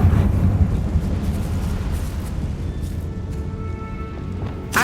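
A Confringo fire spell in the video game Hogwarts Legacy bursts into a loud explosive whoosh at the start, then a rumbling fiery roar fades gradually, with a second sharp burst right at the end.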